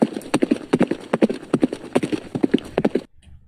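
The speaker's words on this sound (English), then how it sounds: "So they are moving forward on their horses." Horse hooves clip-clop in a quick, steady rhythm as horses ride forward, loud and close, with a faint whinny among the beats before everything stops abruptly.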